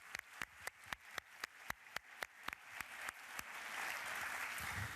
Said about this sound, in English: So I think it deserves a special applause.